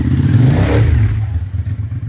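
A 2000 Cagiva V Raptor motorcycle engine runs close by, a loud, rough rumble that swells briefly then settles into an uneven, pulsing idle.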